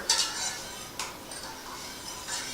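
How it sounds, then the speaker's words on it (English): A spoon stirs an espresso gelatin mixture laced with chocolate liqueur for panna cotta, giving a few close, light clinks and scrapes against the pot with quiet gaps between, no voices. "And we're going to stir it until everything is melted"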